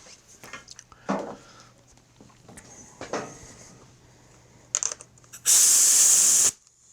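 Compressed air from a shop air line hisses into the engine of a used Craftsman riding mower during a leak-down test: a loud, steady burst of about one second near the end, after some scattered handling clicks and taps.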